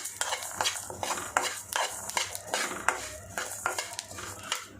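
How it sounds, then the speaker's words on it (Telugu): Sesame seeds, cumin and fenugreek dry-roast without oil in a pan as a utensil stirs and scrapes them. The scrapes are quick, rhythmic and near, with a faint sizzle beneath. "నువ్వులు వేసుకొని మంచిగా కలుపుకోవాలి."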